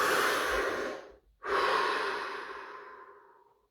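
A single deep breath, drawn in audibly and close to the microphone, then after a short pause released in a long, fading exhale.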